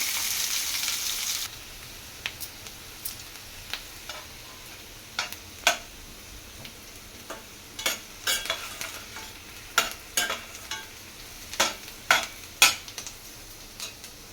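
Onions fry in oil in a pan with a soft, steady sizzle, punctuated by repeated sharp clinks and scrapes of a spatula stirring at an uneven rhythm.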